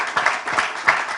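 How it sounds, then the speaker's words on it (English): Audience clapping at a press conference for a pickleball championship, a short burst of applause with uneven claps rising and falling, moderately loud and without speech. "Big round of applause, ladies and gentlemen."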